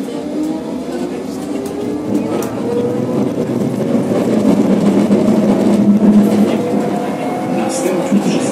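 Tram ride in Warsaw heard from aboard: continuous low rumbling of wheels on rails with shifting tonal whine from the motors, steady and fairly loud throughout, with faint background voices.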